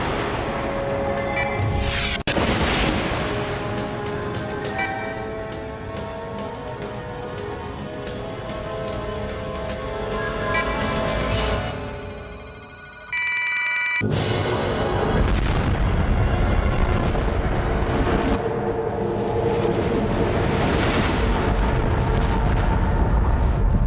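A loud, booming explosion in a French-dubbed science fiction alien invasion film, with dense rumbling blasts and crashing debris roaring continuously, briefly dropping before another heavy burst erupts.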